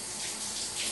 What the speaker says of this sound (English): I'm going to rinse my hands just real quickly here.